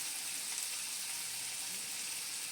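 Tomatoes and spices frying in a pan for an egg and potato curry, a steady close crackling sizzle that stays even throughout with no talking.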